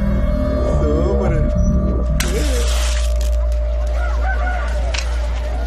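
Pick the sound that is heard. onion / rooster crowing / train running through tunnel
rooster crowing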